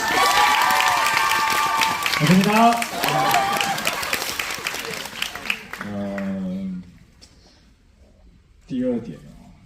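An audience applauds at a film screening's guest talk, a dense clapping wash under overlapping speech that fades as voices continue alone.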